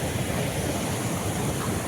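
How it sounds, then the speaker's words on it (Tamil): Water rushing and lapping at the edge of Iluppuli lake in Karnataka, a steady broadband wash with wind noise on the microphone, continuous and fairly loud with no talking. "தண்ணி வேறு ஃபுல்லாக போயிட்டு இருக்கு"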